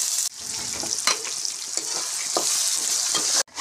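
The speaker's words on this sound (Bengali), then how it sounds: "আলুগুলোকে এখন লাল লাল করে ভেজে নেব, সামান্য একটু হলুদ আর একটু নুন দিয়ে" Potato strips fry in hot oil with turmeric and salt, giving a close, steady sizzle broken by a few spatula scrapes and stirs before it cuts off briefly near the end.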